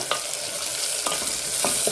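Onions frying in oil for mutton kosha, a steady close sizzle broken by a few sharp spatula scrapes as they are stirred, with no voices.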